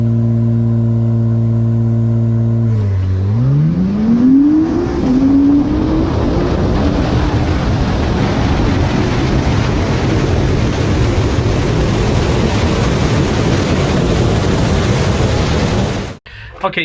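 A car with aftermarket downpipes and exhaust, running on 93 octane, launches down a drag strip: the engine idles roughly, then roars through rising gear pulls as a loud, sustained, throaty exhaust note that lasts most of the run before stopping suddenly.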